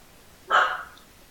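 A single short bark from a small dog, fairly near and moderately loud, rising sharply and trailing off over about a third of a second in an otherwise quiet indoor room.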